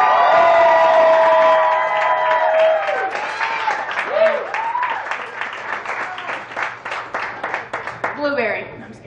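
An audience at a live event breaks into applause and cheering, with shouts and whoops over a steady patter of clapping that grows more distinct toward the end, preceded by loud excited crowd voices.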